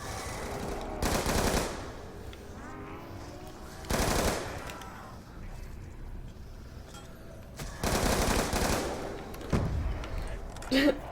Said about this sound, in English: Shots fired by girlfriend, get wrecked action.